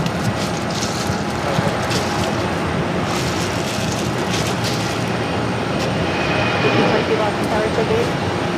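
A jet airliner takes off from runway 22 right at Boston Logan, heard as a broad, continuous roar with steady rushing noise throughout, while a radio voice talks over it.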